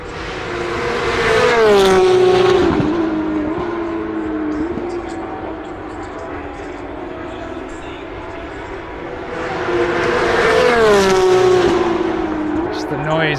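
Formula 1 race cars roar past at the Silverstone British Grand Prix, two loud high-pitched engine passes rising and falling with gear shifts, a quieter stretch of distant engine noise between them.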